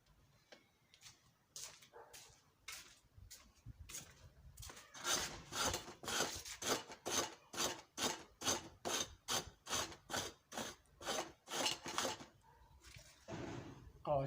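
Blackboard brush rubbed across a chalkboard in a classroom, a run of rhythmic back-and-forth scrubbing strokes that builds from light early rubs to a steady fast series, close and fairly loud.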